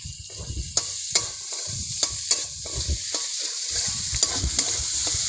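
Snails are fried in spiced oil for a spicy snail curry and stirred with a spoon. The utensil scrapes and clicks against the pan in a rhythmic pattern over a continuous close-up sizzle, with no voices.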